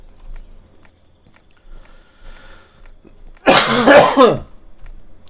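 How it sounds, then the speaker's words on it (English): A single burst of harsh, close coughing rises suddenly out of near silence and lasts about a second before fading. "this cough is just lingering"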